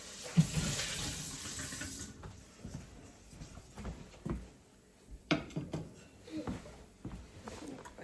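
Tap water runs into a kitchen sink while something is rinsed before browning meat for pepper steak, a steady splashing wash with clatters and knocks, strongest in the first two seconds and then thinner and patchier.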